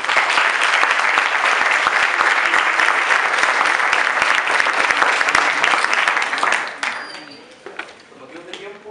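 Sustained loud applause from an audience at a university debate hall, a dense continuous clatter of many hands that fades out near the end, with a voice beginning to speak as it dies away.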